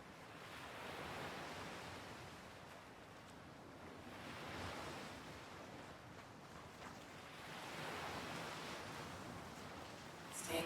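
Ocean waves for a chair yoga meditation, steady broadband surf swelling and receding in slow surges, with a soft wash between the swells and some wind rumble, moderately loud and continuous with no voices.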